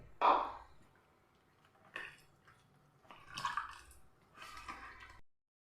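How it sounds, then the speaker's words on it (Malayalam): Water is poured into appam batter in a few short, soft bursts, each a faint splashing squish separated by quiet pauses, close by and without talk. "വെള്ളം കൂടെ ഒഴിക്കുന്നുണ്ട്"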